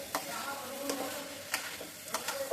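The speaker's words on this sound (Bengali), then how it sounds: "এবার ভালো করে মশলাটা মিলিয়ে দিব, আর চুলার আঁচটা বাড়িয়ে দিব। চালগুলো একটু ভাজা হয়ে যাবে।" Rice with spices for pulao fries in a wok over a raised flame, a soft sizzle running under quick, light stirring scrapes and taps, brief and without talk.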